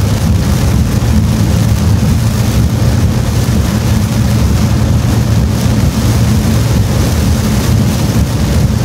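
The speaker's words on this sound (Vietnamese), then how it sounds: "đoạn đường về này là mưa rất to" Heavy rain during a night drive toward a bridge linking Quang Ninh and Hai Phong, a dense steady roar with a low vehicle rumble underneath and no voices, loud and unbroken throughout.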